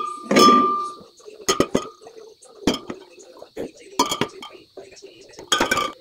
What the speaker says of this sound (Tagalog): yung mga bote ay ilagay natin dito sa kaldero